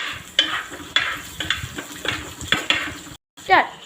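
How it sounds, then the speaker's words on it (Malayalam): Curry leaves and green chilies with ginger are stirred in a pan, with a spoon scraping in regular strokes about every half second over a low sizzle, then a brief pause and one more scrape. "ഇനി ഇത് നന്നായിട്ട് ഇളക്കാം."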